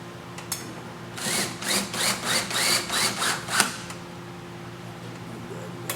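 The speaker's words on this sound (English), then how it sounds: "We're going to go ahead and run in the remainder of our track screws." A power drill drives track screws, with a few short bursts of whirring that pulse about six times over a couple of seconds, fairly close, between quiet stretches.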